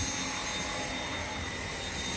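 A Dyson V7 cordless vacuum grooms carpet with a steady, loud, close whine and broad airflow roar, unbroken throughout.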